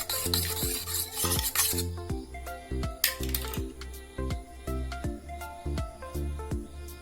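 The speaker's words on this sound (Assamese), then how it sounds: "এতিয়া মই ইয়াত এচামুচ পানী দিম ডাঙৰ চামুচেৰে আৰু ভালদৰে মিহলাই ল'ম।" A large spoon mixing chicken marinade in a bowl, with rhythmic scraping and knocking strokes that repeat steadily, plus a brief wet rasp early on.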